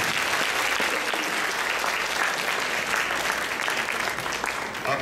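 Sustained audience applause at an anime convention kimono fashion show, a dense, even wash of clapping from a large crowd that holds steady throughout.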